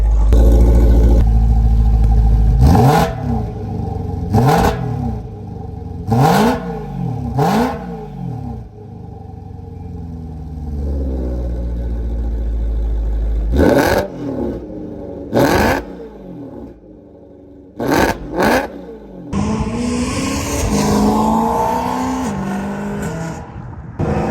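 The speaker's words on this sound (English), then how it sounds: "Now it's really loud." Loud BMW E90 M3 exhaust with valves open, deep rumbling idle broken by repeated sharp revs that rise and fall, ending in a roaring burst of throttle.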